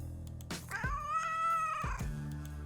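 A single drawn-out, wavering meow from Nasty Dennis, a cat in the vampire game First Bite, rises clearly over a low background hum, framed by soft thumps just before and after.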